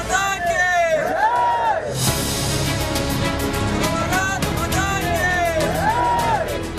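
A large mourning crowd in Karnataka chants "Amar Rahe" for fallen soldiers killed when an army vehicle plunged into a 300-foot gorge in Poonch, Jammu and Kashmir: many voices rise and fall together in a loud, continuous, rhythmic chant.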